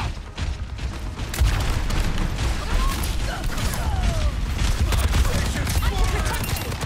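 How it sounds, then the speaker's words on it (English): Rapid spam-fire gunshots in the Overwatch video game, a dense, continuous barrage of shots with mechanical clatter running throughout under game effects. "I think he was just purely spam shooting."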